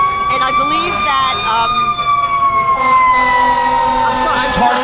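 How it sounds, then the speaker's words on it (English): Fire engine sirens blare at a St Patrick's Day parade in West Orange, loud and close, with several wailing tones sweeping and overlapping, a truck rumbling beneath and voices talking over the din. "It's hard to remember the question with the sirens."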